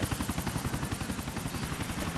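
A helicopter in the video game GTA IV makes a loud, steady rotor chop with rapid rhythmic thumping over a dense engine roar throughout.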